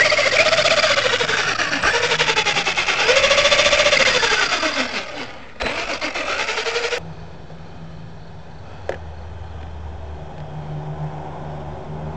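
An HPI Maverick Quantum Flux RC monster truck runs with a busy, buzzing whine and possible gear-mesh grind for about seven seconds, then cuts out and leaves a quieter low background hum with one brief click.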